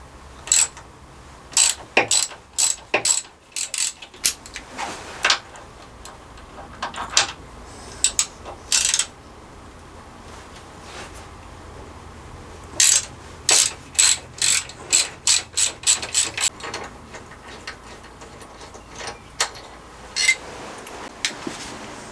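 A hand ratchet clicks in quick runs while loosening the foot peg bolts on a Honda CB650R motorcycle, sharp and close, with short bursts separated by pauses and no talking.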